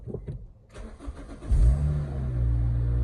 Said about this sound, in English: Let's get the ignition on.